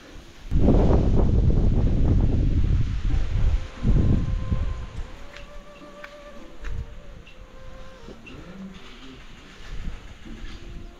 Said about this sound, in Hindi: अब लगातार तेज हवा चलेगी